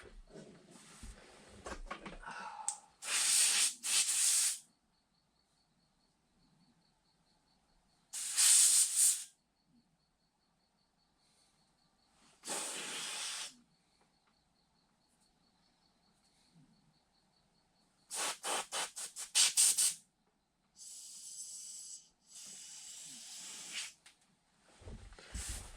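Compressed air blasts cat hair off Suzuki TS 185 carburetor parts in several loud, broadband hissing bursts of one to two seconds, separated by quieter stretches.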